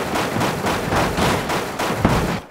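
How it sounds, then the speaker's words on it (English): Continuous heavy gunfire in BeamNG Drive, a loud, dense, steady barrage of shots pulsing evenly for the whole stretch with no talking. "I'm gonna start shooting"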